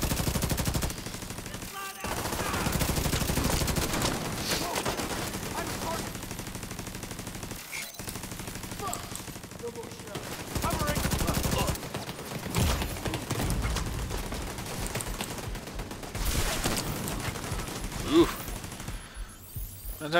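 Turret gunfire in The Division 2 video game, sustained rattling bursts of automatic fire broken by brief pauses and heavy impacts over about twenty seconds of dense, loud combat noise.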